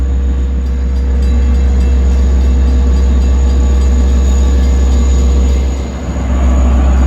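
Diesel commuter train at New Hyde Park station, a loud steady engine drone with rolling wheel noise close by, dipping briefly near the end.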